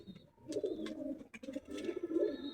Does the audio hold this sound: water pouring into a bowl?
no